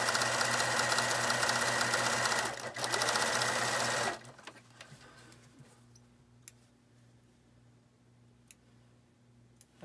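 A sewing machine stitches a fabric face mask in a close, steady mechanical whir with a brief hitch, then stops and leaves faint ticks and clicks over a low hum.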